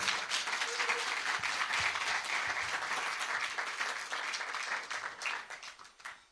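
An audience at a live talk claps together in a steady, fairly distant roll of applause that holds for several seconds before thinning out and fading at the end.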